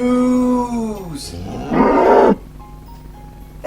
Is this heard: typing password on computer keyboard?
no